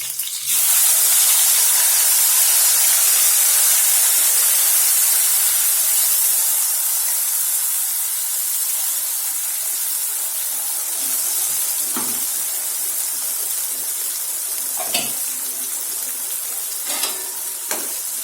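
Ginger, garlic and tomato paste hits hot oil with cumin and mustard seeds, producing a loud, steady frying sizzle with steam hiss that settles slightly, punctuated by a few stirring scrapes near the end.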